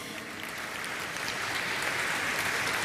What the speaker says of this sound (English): that definitely deserves a round of applause